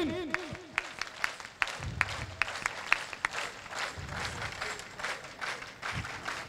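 Applause from an audience at a poetry gathering (kavi sammelan) in Harda, a steady dense roar of clapping with a few sharper claps standing out, sustained throughout at moderate distance.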